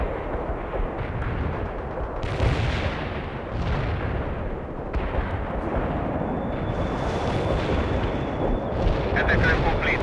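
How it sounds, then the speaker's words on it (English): Several heavy, booming anti-tank strike explosions in the real-time strategy game World in Conflict during a Soviet assault, dull blasts rolling over a constant low battlefield rumble, with a few louder crashes spaced a second or two apart. "Anti-tank strike is inbound."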